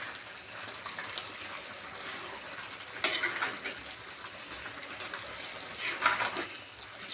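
Aloo methi sabzi of potatoes and fenugreek leaves is stirred in a pan on a high gas flame, a soft steady sizzle with two sharper scrapes of a spoon against the pan.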